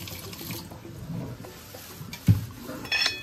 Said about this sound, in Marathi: पहिले पाणी टाकायचं. ते थंड होऊन जातं.